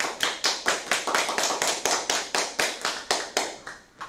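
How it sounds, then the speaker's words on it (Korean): A crowd applauds with brisk, continuous clapping that swells in rhythmic waves, then tapers off near the end, after a statement is read at a Korean March 1st Movement academic seminar. "큰 박수 부탁드립니다"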